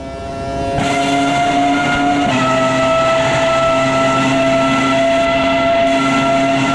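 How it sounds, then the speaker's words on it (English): Race car engine in the sim racing game Automobilista 2, a loud, steady, droning whine that shifts pitch a couple of times while holding on, with no other sounds. "You hear the engine, then braking."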